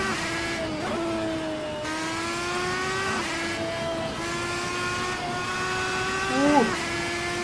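Red Bull X2010 race car engine in Assetto Corsa at the Nordschleife, a loud, continuous high-pitched whine that climbs repeatedly through the gears with brief dips at each shift.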